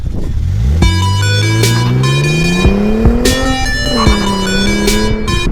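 A 2013 Hyundai Genesis Coupe 3.8 drives hard, its engine revving up loudly through several gears with rising tones and abrupt shift breaks, close and continuous with no talk.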